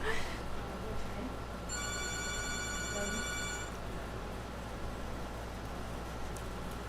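A telephone at a televised bingo broadcast rings once, a clear electronic trill lasting about two seconds, heard at moderate distance over steady room noise with people talking.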